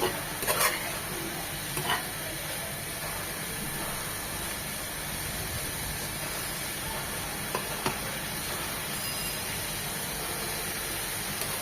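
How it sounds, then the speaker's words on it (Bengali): Shapla (water lily) and shrimp fry in a pan with a steady close sizzle and hiss, broken by a few soft scraping clicks of stirring. "একটু পর নেড়ে দিতে হবে"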